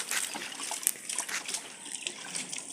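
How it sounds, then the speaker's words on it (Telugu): Water splashes and trickles steadily as a buffalo's udder is washed by hand before milking, close and fairly quiet, with light sloshing and no talk. "ఇక పొదుగునైతే ఇట్లా కడుక్కోవాలి."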